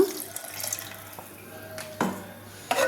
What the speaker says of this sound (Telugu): ఈ వాటర్ని మనం పోసుకోవచ్చు అనమాట